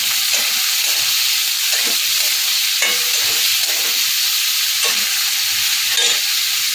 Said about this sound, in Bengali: গাজরটা একটু হালকে করে ভেজে নেব